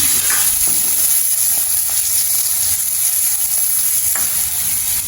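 Curry leaves and green chillies fry in hot oil for a Jaffna dried-fish curry, giving a loud, continuous sizzle and hiss with a few faint clinks of a utensil, no voices.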